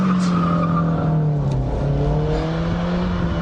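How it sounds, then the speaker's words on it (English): A Ford Puma doing a handbrake-turn drift: a loud, close engine drone under a sustained squeal of skidding tyres, alone with no speech. "First gear, swing the wheel, pull the handbrake, get the clutch, and power out of it."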